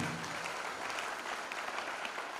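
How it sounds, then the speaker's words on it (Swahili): A church congregation at a new sanctuary's grand opening claps for its bishops, a dense and continuous round of applause that stays even throughout, heard from some distance and fairly faint. "So tupigie our bishops ambao wako mahali hapa makofi."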